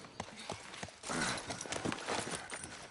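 A horse's hooves clip-clop in The Last of Us Part I, a run of distinct close hoofbeats that grows busier and louder partway through, with a faint voice in the background.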